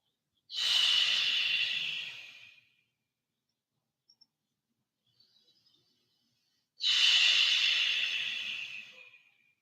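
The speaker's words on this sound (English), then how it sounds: "3 more breaths" Two long, deep breaths drawn in a quiet yoga session, each a loud, airy rush lasting about two seconds, separated by near silence with only a few faint ticks.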